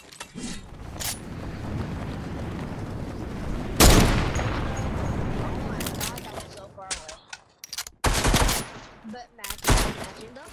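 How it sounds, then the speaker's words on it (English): Rapid gunfire and sharp shotgun blasts come from a lever action shotgun in the video game Fortnite, with a dense burst of shots followed by several spaced, loud bangs and a few short gaps. "Lever action shotgun."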